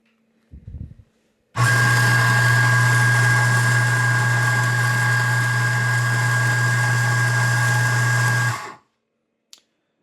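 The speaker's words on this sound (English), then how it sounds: "So it grinds really fast." A Eureka Atom W 65 coffee grinder grinds an 18 gram dose of beans, a loud steady motor whine starting abruptly after a brief click, running about seven seconds and stopping cleanly.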